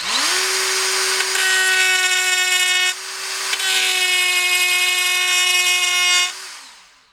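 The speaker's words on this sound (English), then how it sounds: "No problem for this die grinder" A DeWalt DCG426 cordless die grinder spins up to a loud, steady high-pitched whine, dips briefly near the middle, then keeps running for several seconds before winding down.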